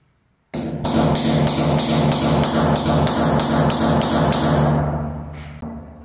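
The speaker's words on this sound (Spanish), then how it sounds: "Enseguida dejemos hundir el perno." A hammer drives a rawl anchor bolt into its hole with a quick, steady run of about a dozen loud, ringing metallic strikes, close by and with no voices, before a final lone tap.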